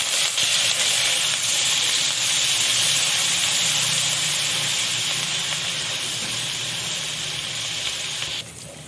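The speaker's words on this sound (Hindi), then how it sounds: "अदरक लहसुन भी डाल के मैंने फ्राई कर लिया" Ginger and garlic fry in a pan, a loud, steady hissing sizzle held close throughout, easing slightly near the end.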